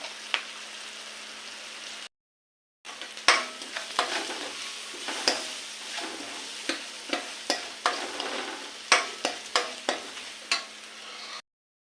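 Chili powder is stirred into a sizzling oil tempering for a thajank (sickle senna) greens palya, with repeated close spoon scrapes over a steady crackle, broken by a brief silent gap.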